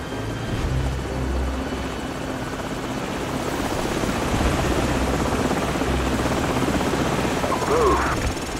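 Enemy helicopters in a Modern Warfare campaign mission give off a loud, steady rotor and engine drone that fills the whole stretch, with a voice briefly heard over it near the end.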